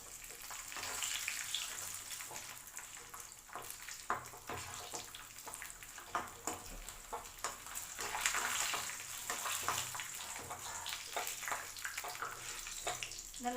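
Steady, dense sizzling as raisins fry with roasted cashews in a hot pan, a constant crackly hiss with occasional small pops and stirring scrapes.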